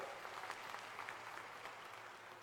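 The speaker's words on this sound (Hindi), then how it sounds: "जरा जोरदार तालियों से उनका स्वागत करो सब मिलके" An audience at an Indian political rally for Rahul Gandhi claps in dense, sustained applause that stays steady and fills the whole stretch, heard from within the crowd.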